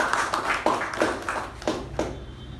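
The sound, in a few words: audience round of applause at a meeting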